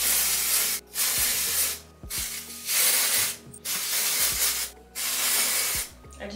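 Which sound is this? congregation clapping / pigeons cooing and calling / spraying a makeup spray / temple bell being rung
spraying a makeup spray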